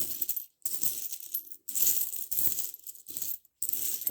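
Loose coins, some of them exchangeable euro-cent pieces, clink and rattle as they are sorted and dropped by hand, in a steady run of close metallic jingles broken by brief silent gaps, with no voices.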